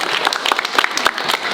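Middle school students clapping their hands in an assembly, a short burst of dense, close applause from a crowd of kids.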